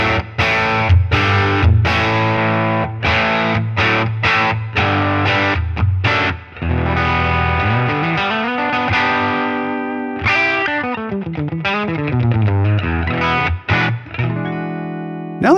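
Electric guitar played through a Helix amp and cab model with only reverb, loud distorted riffs and sustained chords with slides, heard alone.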